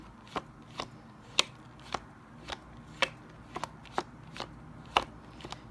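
Playing cards handled and snapped one by one, about a dozen crisp flicks at a loose steady rhythm, close and fairly quiet, with no talking.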